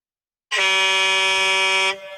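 A single flat, buzzy truck-horn sound effect played on a radio show blasts out after a moment of silence, holding steady for about a second and a half before cutting off, loud with no speech.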